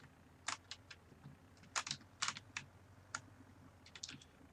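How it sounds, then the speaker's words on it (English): A computer keyboard clicks in quick irregular bursts of keystrokes during a Farming Simulator session, crisp and close but fairly quiet, with short pauses between clusters. "I'm sure you can hear the clicking, so in my defense, I am using a keyboard."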